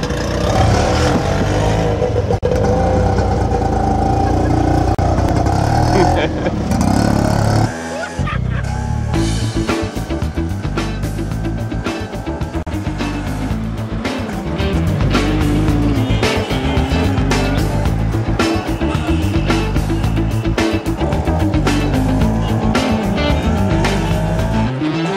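A 250cc auto rickshaw (tuk tuk) engine riding through Lahore traffic, loud and buzzing, with steady rapid putter, gear shifts and revving that surge and settle through a long ride.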